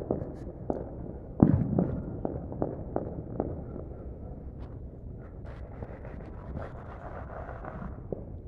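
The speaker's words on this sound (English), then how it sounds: "Sounds like bottle rockets" Bottle rockets going off during New Year's fireworks, a scattered series of sharp distant pops and crackles spread through the clip over faint wind, with no talk.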